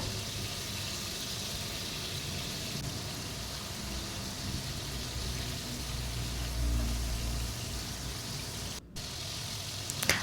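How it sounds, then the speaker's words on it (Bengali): Freshwater prawns shallow-fry in oil for a malai curry, making a steady, moderate hiss of bubbling oil throughout, with a brief clatter near the end. "চিংড়ি মাছটা খুব বেশি ভাজবো না কারণ বেশি ভাজলে শক্ত হয়ে যায়"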